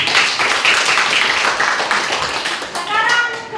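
Children in a classroom clap for a student group, a lively, continuous round of close hand claps with young voices mixed in toward the end.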